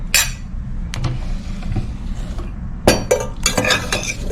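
Blueberry buttercream being mixed in a bowl, with a few sharp utensil clinks against the bowl between quieter scraping and stirring, close and moderately loud.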